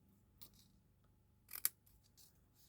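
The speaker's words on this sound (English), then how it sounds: "So I'm just going to cut off that section there." Scissors snip through paper card during a stamping and fancy-fold craft project, giving a couple of quiet, brief cuts with one sharper crisp snip near the middle, close and alone.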